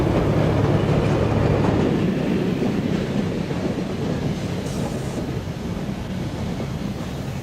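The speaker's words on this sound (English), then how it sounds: "Another IC electric train enters the station." A 1960s Illinois Central electric passenger train rolls into a Chicago station on Cottage Grove Avenue, a loud, steady rumble of rail noise throughout with faint rhythmic wheel clatter and no voices.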